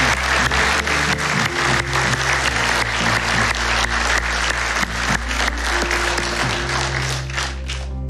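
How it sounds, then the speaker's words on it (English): A church congregation claps in steady, sustained applause that fills the room for about eight seconds and tapers slightly near the end. "Can we clap for them today?"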